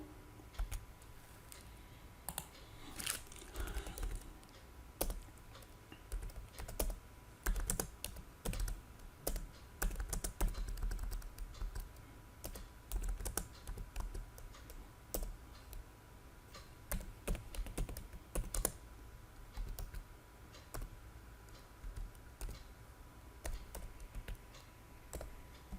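Bursts of typing on a computer keyboard, quiet but close, with irregular clusters of key clicks and short pauses between runs.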